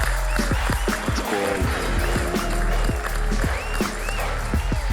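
An audience claps for a guest on a studio show while music with a steady beat plays loudly; the applause forms a continuous bed under the music throughout.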